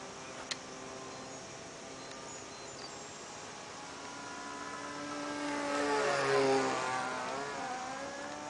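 A Laser model airplane on its first flight, heard as a distant engine whine that rises and swells to a peak near the end of the pass, then starts to fade, steady and without speech.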